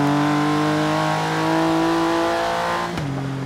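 An RWB Porsche 911 GT2 with 564 horsepower in the racing game Forza Horizon 3 accelerates with a loud, steady engine drone that climbs evenly, then dips sharply as it shifts gear near the end.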